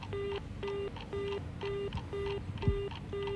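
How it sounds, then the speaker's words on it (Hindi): Telephone busy tone repeating as steady short beeps at an even rhythm, about seven pulses, over a low background hum with no talking. "लगातार एंगेज आ रहा है"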